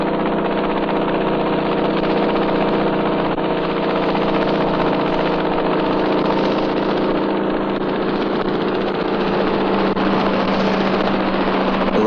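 A chartered helicopter's engine runs steadily and loudly throughout, a continuous droning hum with no breaks and no voices.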